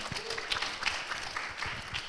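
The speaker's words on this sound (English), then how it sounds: "Give applause again for our presenter" An audience applauds a presenter after a conference talk on clonal teak plantations, a moderately loud, even patter of clapping from many hands with a few sharper claps standing out.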